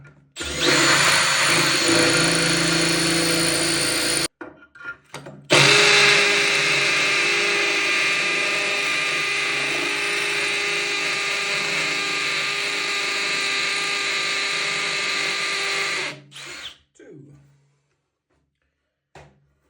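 A power drill drives a screw back into place during a bath hot-water tap repair, whirring loudly and close in one short burst, then a long steady run that cuts off abruptly before quiet.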